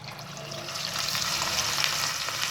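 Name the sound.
beef kebabs frying in hot oil on low-medium flame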